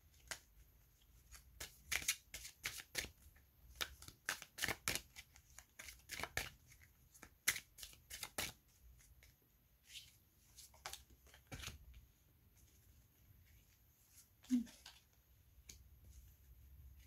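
Playing cards handled and shuffled in quiet surroundings, a run of crisp riffling bursts and flicks, dense at first, then sparser snaps and slides with pauses between, close and fairly soft.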